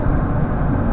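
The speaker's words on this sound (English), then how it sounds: "a slight change in the tone that I'm hearing from the engine" A 2002 Mercedes-Benz S Class 3.2 engine while driving, a loud, steady low drone with road rumble heard from inside the car, no talk.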